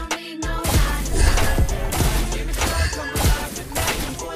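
Yi Sun-shin's rain-of-gunfire skill in Mobile Legends unleashes a rapid barrage of crashing, smashing shot impacts that pound on and off over loud game music after a brief silent gap.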